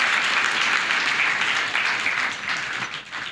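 A church congregation at a healing service claps loudly and steadily for several seconds, the dense applause easing slightly toward the end.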